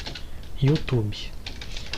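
Soft clicking of computer keys as a short word is typed, a few light taps partly overlapped by a brief spoken voice.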